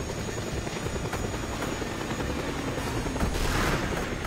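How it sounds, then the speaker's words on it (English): Attacking helicopter in the video game Just Cause 2, a steady loud rotor drone with bursts of gunfire and booms mixed in throughout. "try to take out the helicopter that's attacking Carl Blaine"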